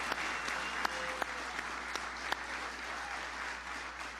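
Crowd clapping at an event welcoming Ireland's Taoiseach, heard faintly through a played recording, a continuous even patter with a few sharper claps standing out early on and a steady low hum underneath.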